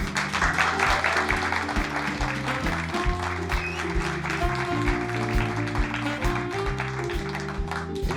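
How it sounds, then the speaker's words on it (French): A studio audience at a French television broadcast claps steadily and densely throughout, over a loud background of repeating musical chords. "Vous pouvez bien vous applaudir, s'il vous plaît."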